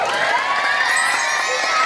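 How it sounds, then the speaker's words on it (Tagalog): Audience at the Miss Gay Pangkalawakan pageant cheering and shouting, a loud continuous crowd roar with high excited voices throughout. "maaari ho ba akong malimos ng palakpakan at hiyawan?"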